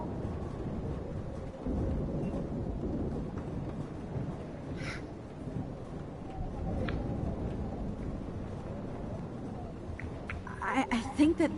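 A low, rolling thunderstorm rumble from the video game Life is Strange Remaster runs steadily throughout, with a person talking over it and a few faint higher chirps near the end.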